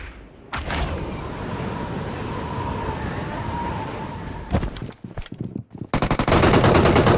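Enemy gunfire in a shooting video game, sustained bursts of automatic fire under a steady din, then sharper scattered shots and loud crackling near the end.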